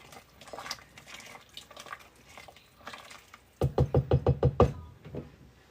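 Oat flour dumplings dropped into a pot of chicken broth and stirred, soft plops and scrapes followed by a quick run of loud rhythmic clanks of a spoon against the pot.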